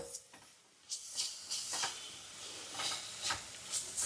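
Ginger garlic paste sizzling in hot oil in a pan while cooking a jackfruit seed curry, giving a steady soft hiss with a series of brighter spitting bursts throughout, close and fairly quiet, with no talking.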